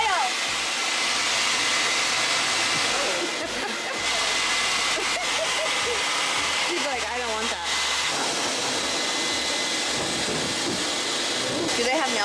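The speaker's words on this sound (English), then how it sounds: "Who's gonna do the blow dryer?" A hair dryer blows a continuous loud hiss while a puppy is dried during a spa day, steady for the whole stretch with slight shifts in tone, and people talk over it now and then.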